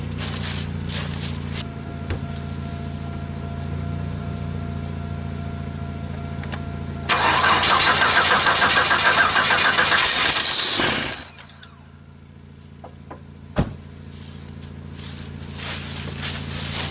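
A car with no battery fitted is started straight off a Noco GB70 portable jump starter: a steady low hum, then a loud broadband surge of cranking and catching lasting about four seconds, cutting off abruptly, followed by a single sharp click.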